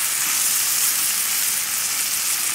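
Tomatoes, shallots and garlic frying in a pan for a turkey paillard dish, a steady, close hissing sizzle that holds evenly throughout without any voices.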